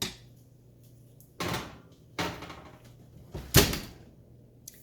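A tray of cauliflower cheesy tots is slid into a preheated kitchen oven, followed by the oven door shutting, giving several sharp metallic clunks and bangs spaced across a few seconds against a quiet room.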